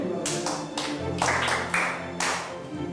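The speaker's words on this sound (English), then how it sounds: "Clap for him." Applause from a classroom group after a pupil answers a question about animals, a burst of claps in several quick waves, fairly close and loud, with a faint voice beneath.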